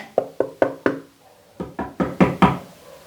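Wooden knocking in two bursts on a Sherman SB44B4 speaker cabinet: four crisp knuckle raps, a short pause, then five more, the last few louder and more resonant, close up.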